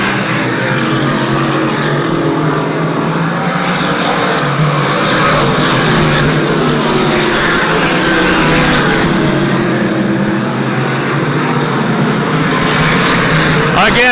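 Stock cars race around Airborne Speedway in Plattsburgh, New York, their engines roaring in a loud, unbroken drone as the field laps the track, with a commentator talking over the noise throughout.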